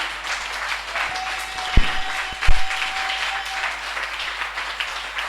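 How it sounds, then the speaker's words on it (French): Church congregation applauding together in steady, dense clapping that fills the space, with a few sharper claps standing out and a sustained tone running beneath. "Acclame pour dire merci à l'Éternel"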